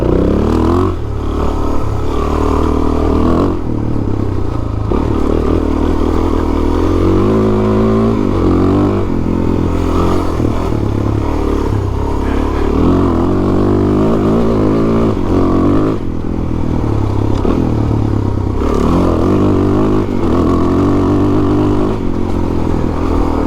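A Suzuki DRZ400 single-cylinder dirt bike is ridden off-road along a mountain ridge trail, its engine droning loud and close throughout as the revs rise and fall through gear changes, with rattling and wind buffeting mixed in.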